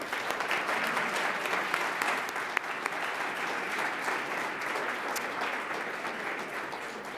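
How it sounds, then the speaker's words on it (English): Audience at a Central Ohio bankers' forum applauds forum speakers, a dense, steady wash of clapping that holds at even loudness for the whole stretch with no talk over it. "Let's have a round of applause for them."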